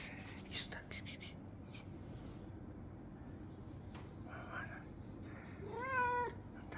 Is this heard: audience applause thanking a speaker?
no